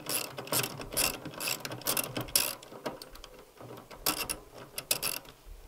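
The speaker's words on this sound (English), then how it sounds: "I'm going to get these two outer bolts done up first, then I'm going to sort out the inside." Outer seat bolts on a VW T5/T6 folding front seat are tightened with a ratchet. Bursts of rapid clicking repeat in short, uneven strokes, close and fairly quiet, with brief pauses between them.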